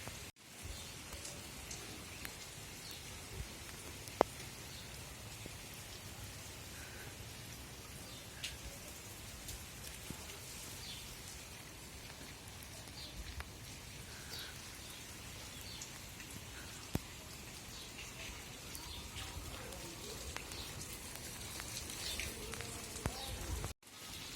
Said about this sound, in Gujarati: અમે આવ્યા છીએ દેડી માસીની ઘરે એકદમ વરસાદ ચાલુ જ છે ચાલુ ને ચાલુ